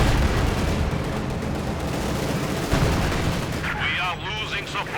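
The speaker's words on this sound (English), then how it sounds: "There we go, another Panzerfaust connects with the T-34." Battle in Company of Heroes 2 with rapid gunfire and heavy anti-tank blasts as a Panzerfaust hits a T-34 tank, dense and continuous, fading to quieter rumbling near the end.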